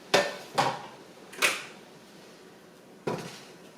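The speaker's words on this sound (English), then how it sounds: "And then I'm gonna move this big pot over this burner and turn off this one." A big metal pot for bok choy soup slides onto a stove burner, giving four sharp clanks and scrapes in close succession with quiet pauses between, near and fairly loud, no talking.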